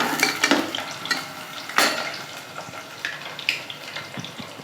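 Potatoes frying golden in hot oil for mutton tahri, a steady crackling sizzle with scattered clinks and stirring scrapes, close and moderately loud, no voices.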